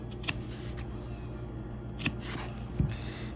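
Scissors cut through fabric scraps in three brief, crisp snips spaced about a second apart, close and quiet against a low steady hum.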